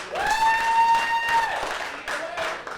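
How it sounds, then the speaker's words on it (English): A comedy club audience at an open mic night breaks into steady applause that fills the room, with a thin whistle-like tone riding over the clapping for the first second and a half. "Can we get a little round of applause for East London?"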